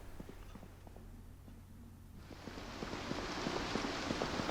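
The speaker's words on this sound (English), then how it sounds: "I woke up to a light rain shower outside" Light rain in the survival video game Project Zomboid begins as a soft hiss that swells into a steady patter, over faint thudding footsteps, with no talking.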